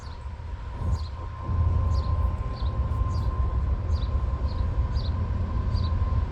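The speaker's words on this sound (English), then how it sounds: "Two engines on the lead. It's a hopper train." A freight hopper train led by two locomotives rolls past in a steady, loud rumble with a sustained engine drone, while wheels click rhythmically over rail joints in a regular pattern.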